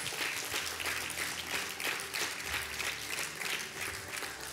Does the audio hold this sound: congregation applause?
yes